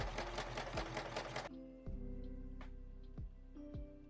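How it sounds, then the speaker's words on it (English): A sewing machine stitches gathering rows on a dress bodice, first in a fast, dense run of needle strokes, then in slower, quieter bursts with pauses between them. "We have just done our gathering stitches here."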